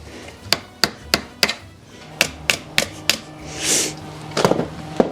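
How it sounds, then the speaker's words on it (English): Sharp knocking strikes in irregular bursts, about a dozen hard wooden thwacks close by from hammering with a piece of wood during motorcycle setup work, with a brief scraping rub between groups. "I don't have a hammer at the moment, so I've just been like using a piece of wood"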